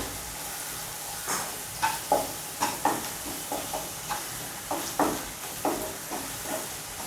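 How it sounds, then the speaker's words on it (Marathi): Ground spices with turmeric and homemade masala frying in a pan, a steady close sizzle broken by repeated scraping strokes of a spoon through the mix. "एखाद मिनिटभर फ्राय करून घ्यायचं आहे"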